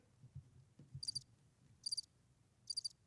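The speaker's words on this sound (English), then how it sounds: "I hear crickets." Three short bursts of cricket chirping, evenly spaced over a low, soft background rumble.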